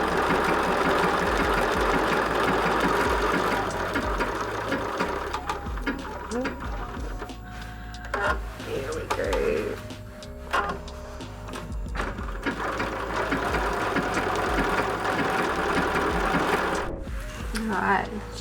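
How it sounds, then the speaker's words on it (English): A sewing machine stitching a tote bag runs in a loud, steady mechanical whir with a fast rhythmic needle patter, pausing briefly midway, while someone talks over it. "I will look at doing the same kind of economical stitching, and we'll just keep on going all the way through."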